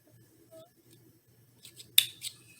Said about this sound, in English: let me go ahead and cut it off